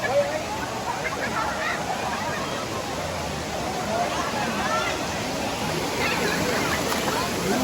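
Steady rushing water of Ulan-Ulan Falls in Naval, Biliran, a broad constant roar with a crowd murmuring and voices chatting underneath throughout.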